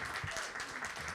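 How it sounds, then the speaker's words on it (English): Audience at an Indigenous poetry reading claps for a poet in a brief, dense burst of steady applause. "Can we please give another round of applause for Tacey?"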